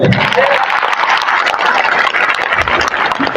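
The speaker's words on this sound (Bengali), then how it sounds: "এদের জন্য একটা করতালি চাই" A crowd at a workers' rally in Bangladesh claps for the central leaders. The applause is loud, dense and continuous throughout, with crowd noise mixed in.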